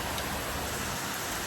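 Heavy rain pours down in a steady, dense hiss that stays even and unbroken throughout, with no voices over it.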